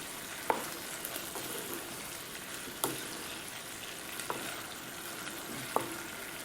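Oyster mushrooms and fish balls cook in red curry, a steady close sizzle and bubbling with a few sharp clacks of a stirring utensil against the pan, no voices.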